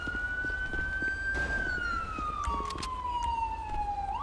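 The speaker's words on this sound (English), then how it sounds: "I'm going to get my siren shut off." Police car siren in the GTA V LSPDFR mod video game, a loud wailing tone that rises, holds, then slowly falls over steady engine and road noise, no speech.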